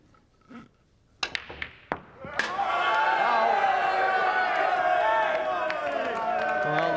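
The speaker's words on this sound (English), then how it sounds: "Well, the crowd's starting to get into it again." Mosconi Cup snooker crowd reacting: a few sharp knocks and thuds, then a swelling roar of cheering and shouting from a large indoor audience that carries on loudly to the end.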